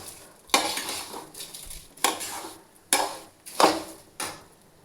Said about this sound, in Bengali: দেখুন চালটাকে বেশ সুন্দরভাবে ভাজবো